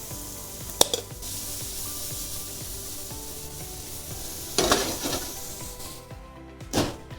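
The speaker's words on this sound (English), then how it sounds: "Let's go ahead and add our onions and mushrooms here. Good sizzle." Onions and mushrooms sizzle in a pan for a pork and mushroom ragu. A steady hiss runs throughout, broken by a few louder bursts from stirring or tossing.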